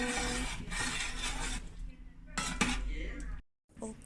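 Ingredients for nasi lemak are stirred in a cooking pot: a utensil clinks and scrapes against the metal in uneven strokes, with a brief silent gap near the end.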